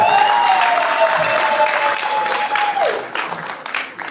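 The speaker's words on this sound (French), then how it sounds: "Est-ce qu'on peut applaudir très fort pour moi, s'il vous plaît?" Festival audience applauding loudly at a comedy show, dense clapping with a cheer rising over it, fading and thinning toward the end.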